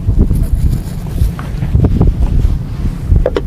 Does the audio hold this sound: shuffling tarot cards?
no